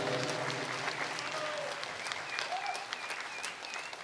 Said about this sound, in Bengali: প্লিজ একবার জোরদার হাততালি হয়ে যায়